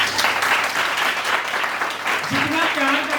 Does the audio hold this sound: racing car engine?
no